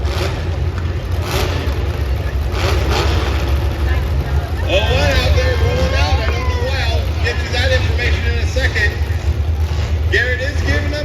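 Demolition derby cars in a destruction derby main event roar and rev together in a loud, dense engine din, with crowd babble and voices underneath throughout.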